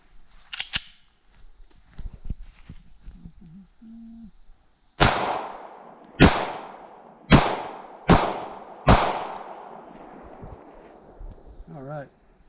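Five sharp, loud gunshots from an H&K USP Compact .45 pistol fired outdoors on a farm, spaced about a second apart with short decaying echoes, after a quiet stretch with faint handling sounds and brief voices.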